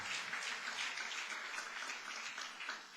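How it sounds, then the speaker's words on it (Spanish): A church congregation applauds as an offering to the Lord during a Spanish-language sermon, dense, bright clapping filling the hall continuously and evenly throughout. "Dele una fuerte ofrenda de aplauso al Señor"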